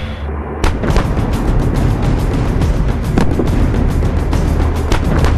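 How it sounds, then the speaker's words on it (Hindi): Indian Army artillery guns fire in sharp repeated booms that cut across a dense, loud rumbling background, several blasts spread unevenly across the stretch with no talking. "सही ढंग से तैनात की गई आर्टिलरी फायर किसी भी जंग का रुख बदल सकती है।"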